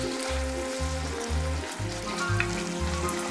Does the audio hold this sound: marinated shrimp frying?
yes